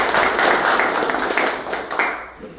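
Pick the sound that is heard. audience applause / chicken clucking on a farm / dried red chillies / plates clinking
audience applause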